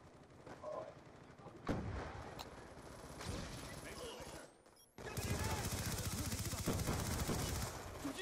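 A gunfight in Call of Duty: Black Ops 2 multiplayer on the Mirage map with an MP7: dense, continuous automatic fire and sharp single shots, loud and sustained, with a brief dip before an even heavier burst.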